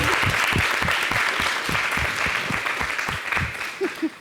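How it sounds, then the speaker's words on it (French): Studio audience on an Ivorian TV variety show applauding fashion designers, dense clapping that is loud at first and eases off over four seconds, ending in a couple of isolated claps. "Est-ce qu'on peut les applaudir bien fort?"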